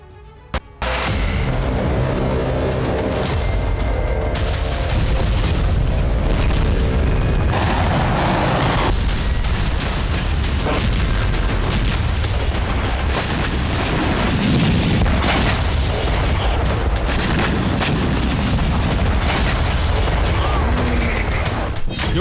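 Ukrainian strikes on Crimea by the Black Sea: loud, continuous rumbling blasts and booming bursts, close and sustained, with scattered sharper cracks and impacts layered throughout.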